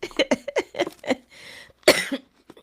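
A close-up fit of repeated coughing, several harsh bursts in quick succession followed by a throat-clearing breath and one more strong cough.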